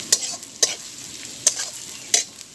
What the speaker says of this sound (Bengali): আদার কিমা ও রসুন কিমাটাকে খুব বেশি ভাজার প্রয়োজন নেই, অল্প একটু ভেজে নিলেই হবে।